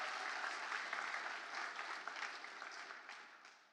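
Audience applause fills a large hall at an investment summit finale, a dense continuous round of clapping from a big crowd that holds steady for several seconds and tapers slightly toward the end.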